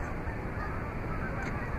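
A flock of large white birds honking from across the water at a quiet outdoor spot, their calls blending into a steady, distant wash of noise with no voices present.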